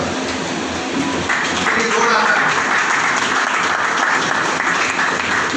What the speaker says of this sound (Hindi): मैं उनका तालियों से जोड़ा स्वागत है